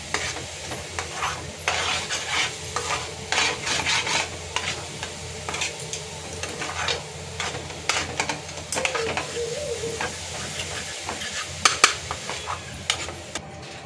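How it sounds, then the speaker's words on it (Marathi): Ginger-garlic masala paste being roasted in a pan until dry, with continuous soft sizzling and repeated scraping stirs and occasional utensil clinks over a low background hum. "ह्या पद्धतीने आपल्याला हा मसाला भाजून घ्यायचा आहे"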